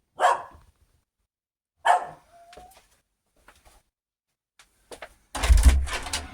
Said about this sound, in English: dog barking at the letterbox